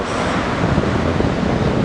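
Surf and wind on a beach at Anglet at low tide with small waves, a loud, continuous roar of breaking water and buffeting wind close to the microphone, with no voices.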